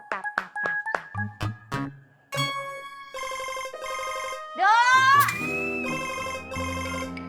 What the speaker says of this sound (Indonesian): Dok, HP-mu bunyi loh, Dok.